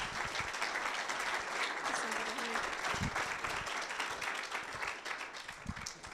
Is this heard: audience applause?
yes